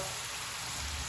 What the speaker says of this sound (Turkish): kızartmaya devam ediyorum